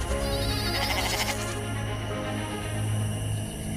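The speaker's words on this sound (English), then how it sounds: "I came face to face with the cutest mountain goat ever" A mountain goat bleats in a forest setting, a wavering cry that rises briefly over steady, dense background noise and then fades back into it.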